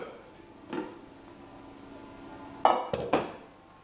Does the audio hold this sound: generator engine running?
no